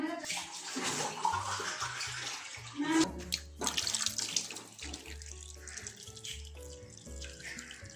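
Water poured into a cooking pot of minced chicken and lentils, a close splashing gush that continues for several seconds, with a voice talking faintly in places.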